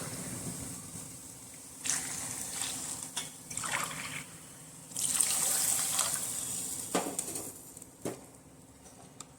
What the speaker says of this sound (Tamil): இப்போது நான் அரிசி எடுத்துன்ற டம்ளர்லேயே 2 டம்ளர் தண்ணி விட்டுக்கிறேன்.